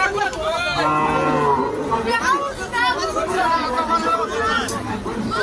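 Cattle moo loudly and repeatedly at a busy village cattle market, their calls rising over a constant babble of crowd chatter and nearby talking voices.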